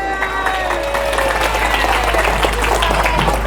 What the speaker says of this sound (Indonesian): tepuk tangan untuk Bustanul Ulum